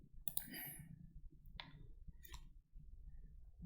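A computer mouse clicks while working in Revit roof-modeling software: a few sharp, faint clicks spaced about a second apart over a quiet, low murmur in the room.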